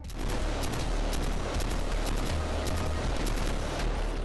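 Dense, continuous gunfire from the video game Killzone 3 fills the whole stretch, with rapid automatic bursts and booming shots layered loudly together without pause.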